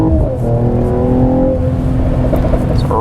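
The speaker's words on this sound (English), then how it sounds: "really nice sound out of this car" A 2020 Mercedes-AMG E53 Coupe's inline-six exhaust pulls hard up a highway on-ramp, a loud, rising engine note with a gear change partway through, heard from inside the car.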